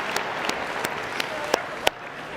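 An audience at a science fair opening ceremony clapping steadily, a soft continuous patter with a few sharper, louder claps standing out.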